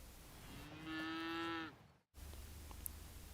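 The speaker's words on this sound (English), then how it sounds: "That's the sound a cow makes." A cow standing in the middle of a road gives one long, loud, sustained moo, close by, followed by a brief silence and then low background rumble.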